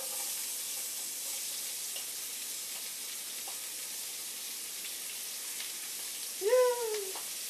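Onions fry in a pan with a steady, even sizzle, joined by a short squeaky scrape of a utensil near the end.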